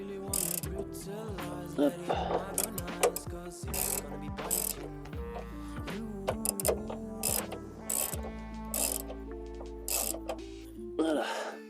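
Ratchet wrench clicking in short bursts while tightening bolts on the rear suspension arm of a Saab 9-3, close up, with music playing in the background and a brief spoken word.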